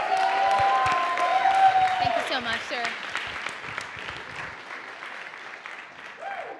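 A demo day audience claps steadily, with voices calling out over the applause early on before it gradually softens and a speaker begins near the end.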